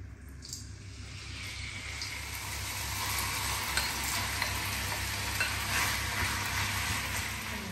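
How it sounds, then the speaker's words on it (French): Escalope sizzling in a hot pan, a steady close frying hiss that swells slightly as it goes on, with no talking. "À chauffer, je vais pouvoir ajouter l'escalope."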